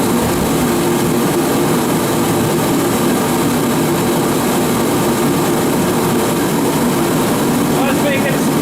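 A turbine shed heater, just plugged in, runs with a steady, loud, full-range jet-like roar that holds constant and close throughout.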